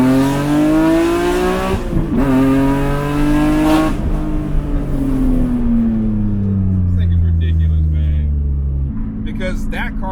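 A loud supercharged BMW E46 330i engine with a twin-screw supercharger revs hard, its pitch climbing and falling through sustained high-RPM pulls, with a brief drop and rise near the end.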